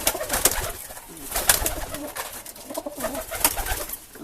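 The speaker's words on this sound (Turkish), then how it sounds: "14 tane uçan kuşumuz var. 8 tane de yavrumuz büyüyor." Tip pigeons in a home loft coo repeatedly. Soft, low cooing calls come from several birds close by, with rustling and a few sharper bursts of wing or movement noise. No one speaks.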